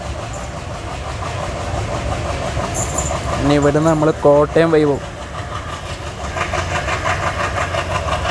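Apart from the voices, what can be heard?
train departing Kayamkulam junction behind ALCO locomotive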